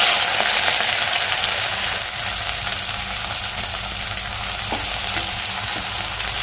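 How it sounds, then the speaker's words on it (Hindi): Onion, a spring onion for an aloo sabzi, fries in hot oil with a loud, close, steady sizzle, a few faint knocks and scrapes of a spoon now and then, and no voices. "सबसे पहले मैं इसमें हल्का ओनियन फ्राई करूंगी।"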